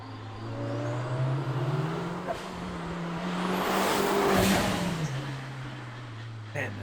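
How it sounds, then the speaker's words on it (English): A turbocharged car engine revs up and down as the throttle is blipped on and off, its tone rising and falling with whooshing turbo noise, close and fairly loud. "the quintessential turbocharger noises are also extremely prominent, particularly when dipping in and out of the throttle."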